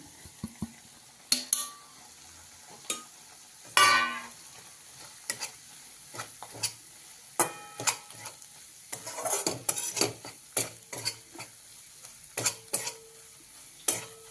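Fresh coconut, coriander, ginger, garlic, cumin and coriander seeds sauté in oil in a pan, a faint low sizzle under frequent spatula scrapes and metallic clinks against the pan.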